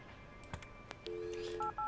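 Telephone keypad tones from the Kathy Rain point-and-click game: a few short dialing beeps, then a steady dial tone and two further paired tones, clear and close with no talking.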